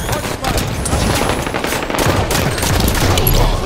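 Rapid automatic gunfire from Halo 5: Guardians in a Doubles match on Eden, loud sustained bursts of shots running the whole stretch without a break.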